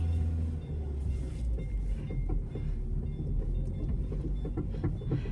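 A train rumbles past close by, a heavy continuous low roar with faint rhythmic clatter over several seconds.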